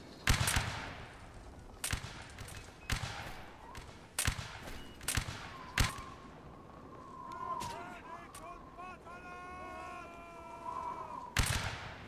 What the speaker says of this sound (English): You're just shooting a lot of them, though.